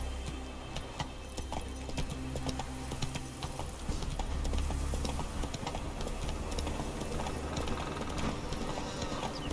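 Geralt's horse Roach galloping in The Witcher 3, a rapid rhythmic hoofbeat patter over low rumbling game ambience that holds steady throughout at moderate volume.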